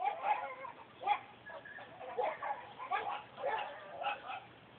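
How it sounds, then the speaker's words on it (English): Several dogs bark outdoors at a moderate distance in repeated short bursts, with some yipping mixed in, while no one speaks. "You hear the dogs outside?"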